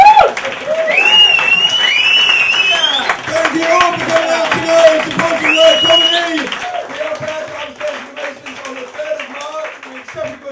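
Audience applause and scattered cheering for a comedian at a live stand-up comedy night, loud and sustained, mixed with crowd noise and a voice talking over it before it thins out toward the end.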